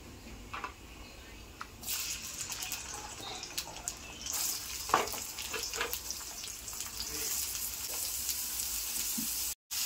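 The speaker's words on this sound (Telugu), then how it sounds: "నూనె కాగిన తర్వాత జీలకర్ర వేసుకుని ఎండుమిర్చి వేసి ఉల్లిపాయ వేసుకోవాలి." Onion, cumin and dried chillies frying in hot oil for a prawn curry, with a moderate crackling sizzle and occasional stirring clinks, while water runs faintly in the background.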